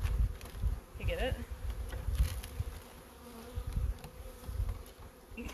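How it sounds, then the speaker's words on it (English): Buckfast honey bees buzz around a hive being installed in spring, a close, steady drone with individual bees whining past near and far. "Buckfast bees? That's the breed of bees they are."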